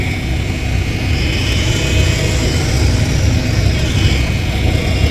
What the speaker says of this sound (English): You hear that noise? That's a reefer.